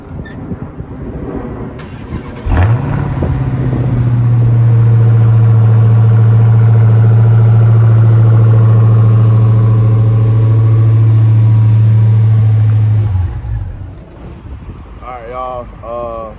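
A 2022 Dodge Charger Hellcat widebody fires up and settles into a deep, loud, steady idle that rumbles close by for about ten seconds before shutting off, with brief talk at the start and end.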